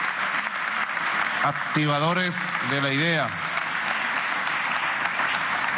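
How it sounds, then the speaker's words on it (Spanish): Steady applause from the audience at the closing ceremony of the FILVEN 2019 international book fair in Caracas, a continuous wash of clapping running underneath a speaker addressing the crowd. "Un aplauso a todos nuestros escritores"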